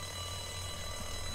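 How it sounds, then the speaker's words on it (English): In The Walking Dead video game, an alarm rings as a continuous, even, shrill electronic tone, steady and moderately faint with no talk over it. "Now the alarm is ringing,"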